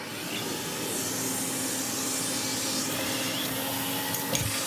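A Hoover vacuum cleaner, just brought down from a loft, runs with a steady, close, continuous whooshing roar that stays level throughout, with a brief knock near the end.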